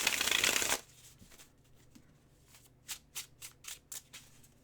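A quick riffle of tarot cards, then a series of soft rhythmic shuffling slaps, about six in a row, close and fairly quiet.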